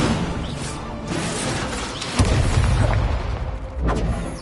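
Spell effects from Hogwarts Legacy, with an Incendio fire spell cast in combat, produce a dense run of booming, crackling blasts, including a heavy hit just past the midpoint and another burst near the end.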